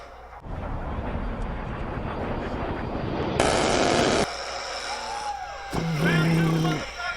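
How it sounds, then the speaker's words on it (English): A-10 attack jets passing overhead amid a combat scene, a loud roaring rush that swells and breaks off, with bursts of heavy gunfire-like noise and a brief whining tone near the end. "It's A-10s."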